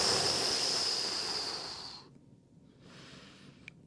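A full, steady exhale through the nose during a shoulder blade stretch, a close breathy rush that fades out after about two seconds, followed by quiet room tone and a softer breath.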